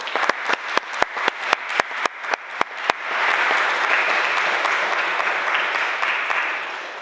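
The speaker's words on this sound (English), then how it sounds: "we will give him a round of applause anyway" At a school Year 11 prize day, an audience applauds a prize winner who is not present: a few sharp separate claps at first, then a full, steady wash of crowd applause that fades slightly toward the end.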